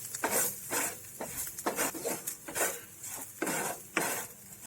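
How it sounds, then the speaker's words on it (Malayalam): Ginger, garlic, fennel seeds and black pepper being stirred and roasted in a pan for a Kerala chickpea curry: repeated scraping strokes of a spoon against the metal pan with a light sizzle, close and steady, no talking. "നന്നായിട്ട് ഇളക്കി മൂപ്പിച്ചെടുക്കാം"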